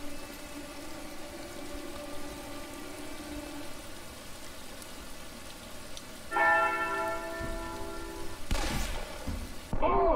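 A duel bell rings in Call of Juarez: Bound in Blood, a Western shooter: a clear metallic ring swells in partway through over a low rain-like wash, followed by a few heavier thuds.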